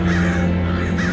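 Crows cawing in a town, a steady, dense wash of harsh calls that sounds like a large flock, loud and continuous over a low background hum.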